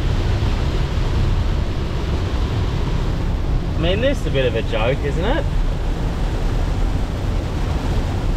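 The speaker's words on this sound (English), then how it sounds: "it's been windy and rainy" Steady wind roars into the microphone with a rushing, broadband noise, with rain falling, while a person speaks briefly over it partway through.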